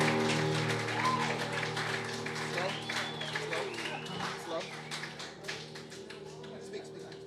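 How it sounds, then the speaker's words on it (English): Audience applause at a concert, a steady wash of many hands clapping that fills the room and slowly tapers off, with music and voices continuing underneath. "Give yourselves a round of applause."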